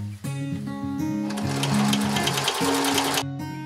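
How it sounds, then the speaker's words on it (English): A sewing machine stitches bias tape along the edges of bloomers, starting up after a short pause and running in a close, steady mechanical whir with a rapid needle rhythm before stopping abruptly. "I will run rows of stitching along both edges right next to the edge."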